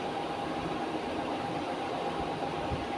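A passenger train rolls slowly through Naihati station, a steady low rumble and rattle of carriages heard from on board, continuous and even with no voices.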